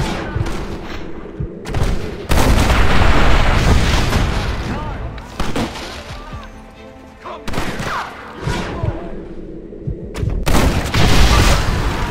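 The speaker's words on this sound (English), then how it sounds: "Marston, use that Gatling gun." Gatling gun firing in Red Dead Redemption, loud bursts of rapid gunfire and booming shots in a ridge shootout, alternating with quieter gaps where voices talk.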